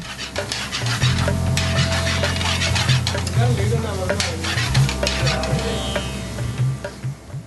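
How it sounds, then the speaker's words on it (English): Chopped chicken and ingredients stirred in a sizzling frying pan, a close, steady fry with repeated scraping and stirring strokes and occasional clinks of the pan. "He mixes all the ingredients together."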